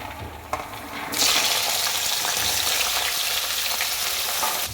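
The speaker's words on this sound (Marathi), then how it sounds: "तर तुम्ही आता बघू शकता मस्त आपली भाजी परतायला टाकली आहे" Vegetables for bhogi bhaji hit hot oil in a kadhai: a quiet start, a small clink, then a loud, sudden sizzle that keeps going evenly and close by.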